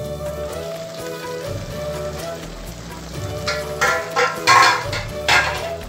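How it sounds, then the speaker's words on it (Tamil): Thick tomato gravy bubbles and spatters in a pan, with soft popping bursts that grow louder toward the end. "பாருங்க அந்த தக்காளி தொகுப்பு கொதிக்கிற அழகே"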